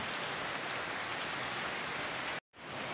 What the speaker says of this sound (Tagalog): Ulan sa amin guys.